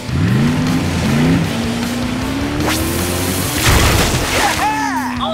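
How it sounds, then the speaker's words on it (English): A cartoon water cannon on a monster machine blasts ice in a loud, sustained gushing roar, with bursts and a crackling impact midway, layered under a cartoon character's sung or voiced tones. "Come on, let's blast some ice!"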